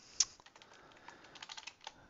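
Quiet, close typing on a computer keyboard, a brisk irregular run of light key clicks with one sharper tap at the start.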